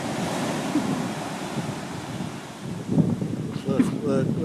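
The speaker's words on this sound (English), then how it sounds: "They're not scared of these crashing waves." Ocean waves crashing on a shore, a steady rushing surf roar under wind buffeting the microphone, with a voice speaking briefly near the end.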